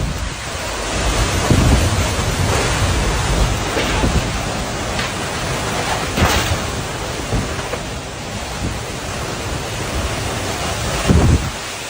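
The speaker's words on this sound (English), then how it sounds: "a super intense tornado went past this guy's house in Illinois." Severe tornado-driven storm sweeping past a house in Illinois, a steady loud roar of wind and heavy rain with occasional sharper bursts and rumbles, no voices.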